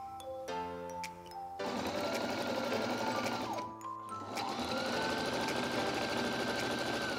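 A sewing machine runs a straight stitch to join a facing onto a top, whirring loudly and steadily, with a short slowdown and pause midway before it starts up again.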